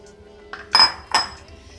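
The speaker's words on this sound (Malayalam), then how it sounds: "അപ്പം ഇതെല്ലാം കൂടെ മിക്സിയുടെ ജാറിലോട്ട് ഇടുവാണ്." Ingredients for spicy chicken fry drop into a mixer grinder jar with two sharp clinks of metal and glass, a fainter tap just before them, close and clear against a quiet kitchen, with no voices.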